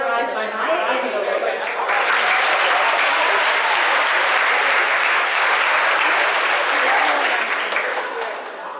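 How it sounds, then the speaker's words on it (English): Steady, loud applause from a crowd at a high school Black History program, swelling after a brief moment and continuing evenly before tapering slightly at the end. "let's give a big round of applause for Miss Brown, who will be reading the poem"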